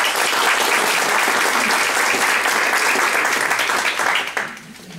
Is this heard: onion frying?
no